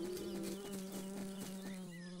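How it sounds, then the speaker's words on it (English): A honeybee buzzes near a honeysuckle flower in a garden, a steady wavering drone close by that rises and dips in pitch, with faint chirps in the background. "It's the honeybee."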